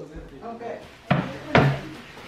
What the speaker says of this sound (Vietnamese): Mở cửa giùm chú Lũ đi.